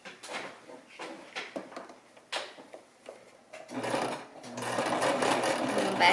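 A sewing machine top stitches a baby romper, first with short stop-start bursts as the fabric is positioned, then a steady, loud run of rapid needle stitching.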